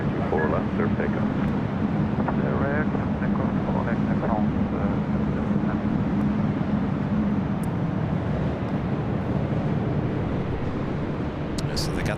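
An airplane at LAX gives a continuous loud engine roar and rumble that holds steady throughout, with radio chatter and speech heard over it.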